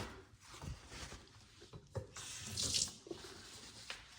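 Tap water runs into a kitchen sink while rinsing up during sourdough bread making, a steady close splashing stream that rises and falls over a few seconds with no talk.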